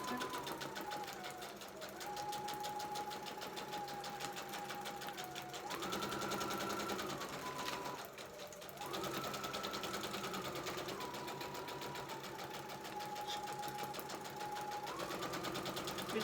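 A sewing machine runs steadily while free-form decorative stitching is sewn onto a lace pocket made from scraps, its motor whirring in long continuous bursts that shift pitch slightly between passes, close and fairly loud.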